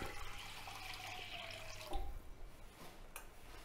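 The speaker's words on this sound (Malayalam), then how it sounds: "ഇനി നമുക്ക് വെള്ളം ഒഴിക്കാം" Water pours into a pan while making rava kesari, a soft splashing rush for about two seconds that then stops, leaving faint kitchen noise, with no talking.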